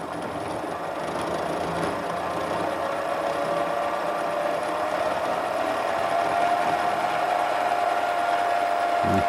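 A milling machine spindle runs at about 500 RPM while cutting a slot, giving a steady, continuous mechanical whir with a faint rising whine, close and even throughout with no talking.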